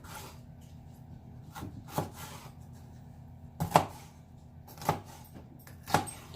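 Food being chopped quickly on a wooden board in a home kitchen: five or six sharp, separate knife knocks at irregular intervals, close and soft, with faint rubbing between them.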